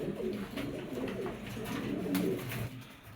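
A pair of black Jacobin pigeons coo in repeated low, burbling phrases nearby, fairly quiet and unbroken by speech.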